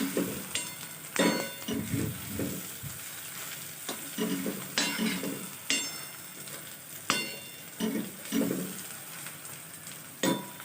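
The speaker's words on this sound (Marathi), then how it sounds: "आता परतून घ्यायचा." Onions sauté for a prawn tawa masala, a steady close sizzle punctuated by repeated loud scrapes and clinks of a spatula stirring against the pan, with no voices.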